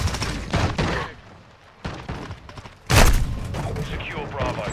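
Sporadic gunfire and heavy booms from a military shooter video game, with a sharp loud blast partway through, heard alongside radio-style game voices.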